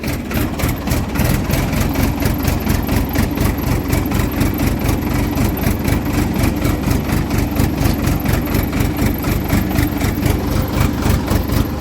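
Tractor engine chugging in first gear on a farm field, a loud, close, steady low rumble with an even rapid pulsing beat throughout, no voices.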